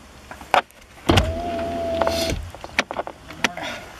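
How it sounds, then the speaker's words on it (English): Car power window motor whirring as the window lowers, one smooth steady hum of about a second, close and clear, with a few clicks and knocks before and after. "He's going to tell me to roll my window down."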